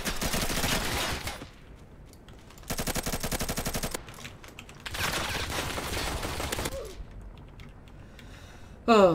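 Close-range SMG/PDW gunfire in Roblox Call of Duty-style shooter Fray: three rapid automatic bursts, loud and near, separated by brief pauses, with a sharp final burst at the end.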